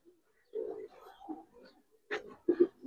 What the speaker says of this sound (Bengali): পুরা দেখেন পাথর চোখের কবুতর ভাই দেখেন